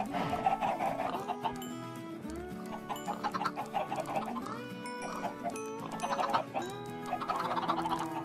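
Minecraft chickens clucking in a farm pen, a steady stream of overlapping clucks and squawks from several birds close by, with game sound layered underneath.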